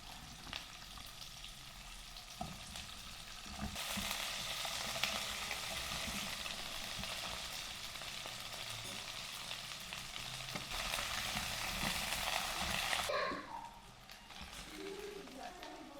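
Potatoes and flat beans fry in a large wok, a dense crackling sizzle that swells louder in the middle and drops off near the end as stirring clatters briefly.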